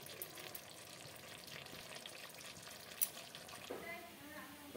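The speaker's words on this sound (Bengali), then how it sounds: "2 মিনিটের মতন ফুটতে দেবো আর আমি নামিয়ে দেবো।" Jackfruit curry bubbles and sizzles in a pan, a dense steady hiss close up with a brief stir partway through.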